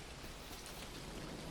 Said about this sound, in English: Ooh, the rain's nice.